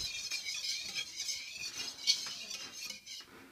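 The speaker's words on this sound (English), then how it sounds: "Stir it up. Mix it good." A small child stirs a buttery mixture in a bowl, making soft continuous scraping and light clinking of a utensil against the bowl, close and fairly quiet.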